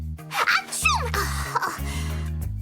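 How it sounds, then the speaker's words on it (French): A few rapid sneezes and sniffly gasps over a low electronic hum, close and short, each burst sharp and breathy. "on ne peut plus s'arrêter d'éternuer"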